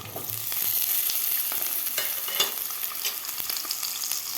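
Boiled baby potatoes sauté in hot oil with curry leaves over a medium flame, giving a steady, close sizzle with occasional scraping stirs and small pops throughout.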